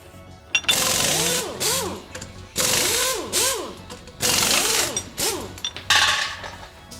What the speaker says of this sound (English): Get some power tool sound effects in here.